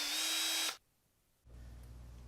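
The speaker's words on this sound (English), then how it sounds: "Go ahead and drill each one of these holes" A power drill bores holes in a FireFly hard case, giving a loud, high whine that stops abruptly, followed by a brief pause and then a lower, quieter running hum.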